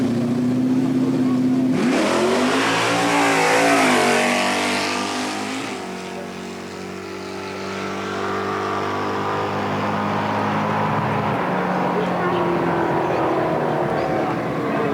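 A drag racing car on radial tires launching and accelerating hard down a dragstrip, a loud roaring engine sweeping upward in pitch then fading away into the distance, with a crowd's murmur beneath.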